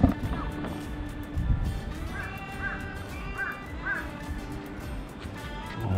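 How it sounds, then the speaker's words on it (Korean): Several crows caw at Namhansanseong fortress on a windy autumn day, a short run of distant calls half buried under steady wind roar. "까마귀들."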